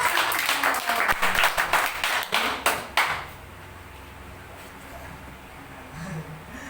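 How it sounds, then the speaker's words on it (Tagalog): An audience at a church community anniversary gathering applauds with a burst of loud clapping that fades out after about three seconds, leaving a quiet room. "Malakas sa palakpak!"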